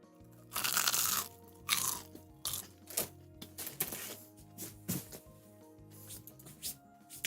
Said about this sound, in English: I'll try not to include any gross mouth sounds and just the nice crunch